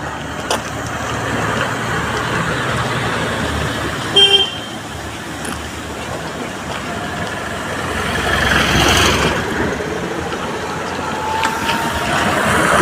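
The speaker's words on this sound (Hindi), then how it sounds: "चांदपुर जाने वाली चांदपुर की गाड़ी जा रही है" Traffic rumbles along the Bijnor bypass road toward Nagina. A short horn toot sounds partway through, then a vehicle swells past at moderate distance amid a continuous outdoor road noise.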